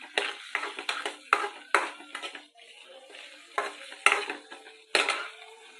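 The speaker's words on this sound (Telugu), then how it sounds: "చూస్తున్నారు కదా ఏ విధంగా కొద్దిపాటి ఆయిల్తో పీసెస్ ఫ్రై అవుతున్నాయండి" Onion pieces, curry leaves and mixed tempering spice seeds frying in a little oil, a soft sizzle under repeated sharp scrapes and clinks of a spoon stirring the pan, close and fairly quiet.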